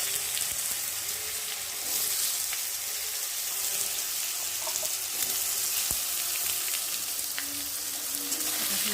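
Small chopped potato pieces frying in hot oil in a pan, a steady dense crackling sizzle that holds evenly throughout with no talking.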